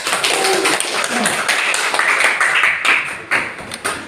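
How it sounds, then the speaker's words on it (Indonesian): Students in a school classroom in Banda Aceh clap their hands together during a lesson, a dense, continuous patter of many hands that stays steady and fairly close for several seconds. "Kita tepuk tangan dulu untuk kelas pendukung ini"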